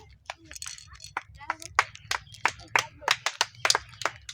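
An audience applauds a balloon dart game contestant with a burst of scattered, uneven claps of varied loudness, a crowd at a village fair-style game show, with talk running underneath.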